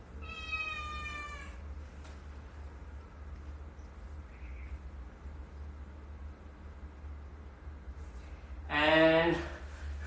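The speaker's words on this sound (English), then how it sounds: "My cat is calling for her dinner." A house cat meowing for food indoors: a drawn-out meow at the start and another louder, close meow near the end over a low steady hum.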